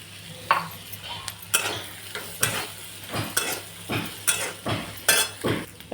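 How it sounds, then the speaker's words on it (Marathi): Chickpeas frying in oil with masala in a pan, with repeated rhythmic stirring scrapes over a steady low sizzle, close and moderately loud. "चांगलं फ्राय करून घेऊ तेलामध्ये आणि मसाल्यामध्ये"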